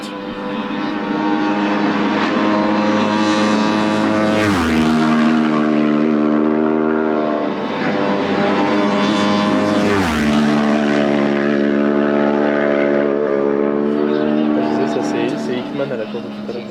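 Isle of Man TT race motorcycle roaring past on a road course, two loud sweeping engine passes with rising and falling pitch, close and dominant throughout the clip.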